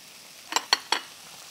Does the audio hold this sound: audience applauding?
no